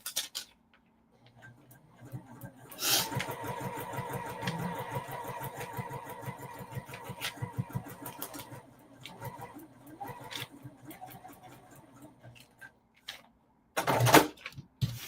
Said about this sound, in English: Trying to focus on sewing straight.